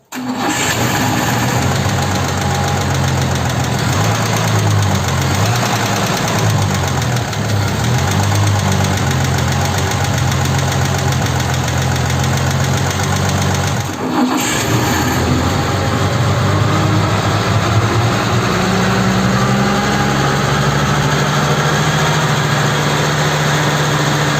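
A Willys Rural car engine, just after an oil change and valve adjustment, runs steadily at idle with a loud, continuous rumble and a slightly uneven beat, briefly dipping once before settling back.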